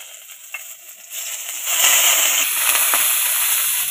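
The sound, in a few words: garlic, green chilli and curry leaves frying in oil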